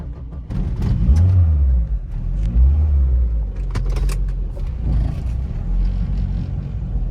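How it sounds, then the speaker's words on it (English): Standard 2-litre EFI engine in an Austin runs at a steady idle, a low close rumble with a couple of brief swells in revs and faint clicks over the top. "There's the 2-litre engine with the EFI, all very standard. Let's listen to it purr."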